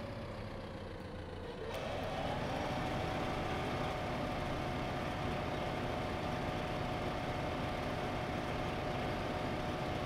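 A tractor engine in the farming game Farming Simulator 15 hauls a heavy load, giving a steady, loud, droning hum that rises slightly in pitch after a brief shift early on and then holds constant.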